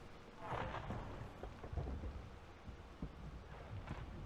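Stormy night in a horror video game: steady rain hiss with low thunder rumbles rolling underneath, a continuous moderately loud wash with a few heavier swells and no clear talk.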